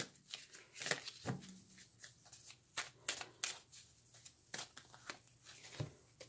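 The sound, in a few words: shuffling a deck of chakra cards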